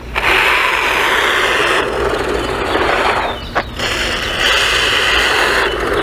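XLF X04a brushless rear-mounted motor in a radio-controlled truck, a loud, steady high-pitched whine that dips briefly twice, once about a third of the way in and again just past halfway, before resuming at full pitch.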